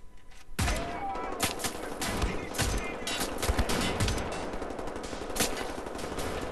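Rapid gunfire and sharp shots in Wolfenstein: The New Order, a dense, loud run of repeated cracks with little pause, close and continuous.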